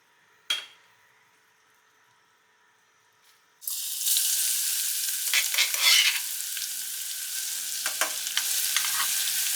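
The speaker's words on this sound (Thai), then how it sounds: "เจียวกระเทียมพอเหลือง" Garlic hits hot oil in a pan and fries toward golden, a sudden loud sizzle after a near-silent start with a few clinks, then steady crackling with stirring scrapes.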